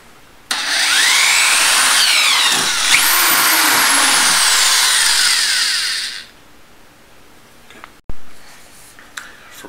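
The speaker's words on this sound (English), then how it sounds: "running the drill up and down through it" A power drill whines at high speed for several seconds, its pitch shifting as it bores through a plastic bucket for maple syrup tapping, then stops; a short clunk follows.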